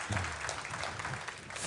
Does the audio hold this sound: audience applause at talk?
yes